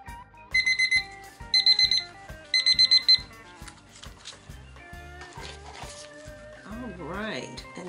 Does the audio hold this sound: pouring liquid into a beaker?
no